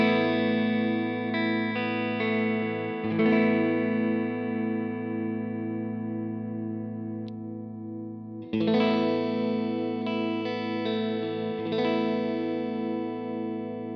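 A gloss black G&L Legacy electric guitar plays through chorus and distortion effects, sustained ringing chords with a few restrikes and brief pauses, close and steady with no talking.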